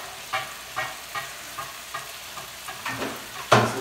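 Liver and onions cook in a pan with a quiet, close sizzle. Light rhythmic stirring taps recur about every half second and end in a louder scrape, with no one speaking.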